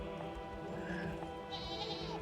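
A goat in the video game Unicorn Overlord lets out a bleat, a soft, wavering cry over steady game background music, fairly quiet and heard alone without talk.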